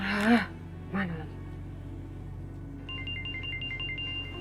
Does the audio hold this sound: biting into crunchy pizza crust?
no